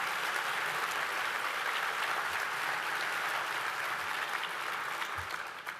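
A large luncheon audience applauds a National Park Service team at a preservation conference, with dense, steady clapping held at full strength throughout before tapering slightly at the end.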